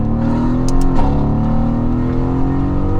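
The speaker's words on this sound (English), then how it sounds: "This wouldn't be a proper video without a highway pull." A Mercedes-AMG GT S V8 accelerates hard on an open highway, its engine a loud, steady roar with a brief shift mid-pull, heard from inside the car.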